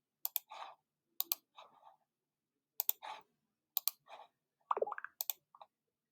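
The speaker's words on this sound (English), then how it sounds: "I'm right-clicking, duplicating, right-clicking, duplicating." A computer mouse clicks repeatedly while files are duplicated in Photoshop, crisp close double clicks in small spaced groups, each followed by faint soft rustling, quiet and alone with no talk.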